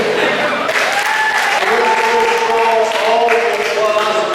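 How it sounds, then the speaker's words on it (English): Audience at the Carroll County Fair main show applauds steadily and loudly throughout, a continuous patter of clapping hands with crowd voices mixed in. "All the applause and laughter for you."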